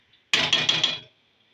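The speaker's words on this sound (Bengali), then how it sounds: "এবার একবার নেড়ে দেবো।" Beef liver is stirred in a pan with a single short scrape and rattle, lasting under a second before falling silent.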